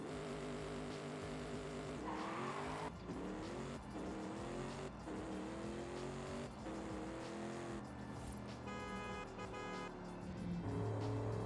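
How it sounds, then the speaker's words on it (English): A Ford F-450 Platinum pickup tuned to about 1,000 hp with a race exhaust launches hard, its loud engine roar rising steadily in pitch through the gears, close up and filling the cab with dense rumble. "I want to give you guys a launch here, because we can do a launch in the truck"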